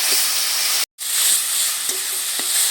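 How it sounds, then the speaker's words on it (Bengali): Ground thankuni leaf paste drops into a hot frying pan of spices and chili powder, sending up a loud, steady sizzle that cuts out for a moment and then resumes with small crackles and stirring. "এবারে বাটা থানকুনি পাতাটা দিয়ে দিচ্ছি।"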